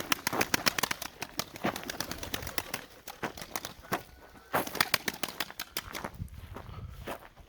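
Fluttering bird wings and soft pigeon sounds outdoors, with repeated short bursts of flapping scattered throughout and no voices.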